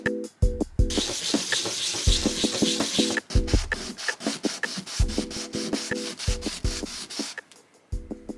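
Rhythmic rubbing strokes of sanding a resin D20 die close up, repeated scratchy passes with brief pauses and faint clicking between them.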